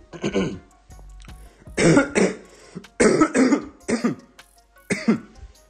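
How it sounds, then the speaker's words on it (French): A man coughs in several harsh bursts with short pauses between them, close and loud, with some throat clearing and no talk. "tousser en pleine vidéo"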